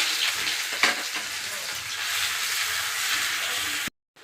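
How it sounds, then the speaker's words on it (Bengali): Chopped onion fries in hot oil with panch phoron, making a close, steady crackling sizzle with a stirring clatter near the start before it cuts to silence at the end. "পেঁয়াজটা হালকা ভাজা হয়ে গেছে"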